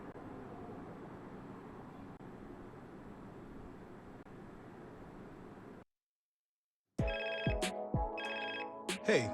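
A phone ringtone from the Madden NFL 24 video game plays in bright, repeating electronic tones after a stretch of steady background hiss and a brief silence.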